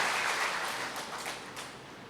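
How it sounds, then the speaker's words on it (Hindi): An audience at a spiritual talk claps together in a steady, fairly loud round of applause that slowly thins out over about two seconds. "ताली बजाइए अपने लिए।"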